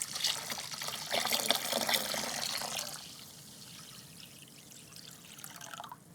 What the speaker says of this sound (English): And now this gets poured into the rest of the gallon.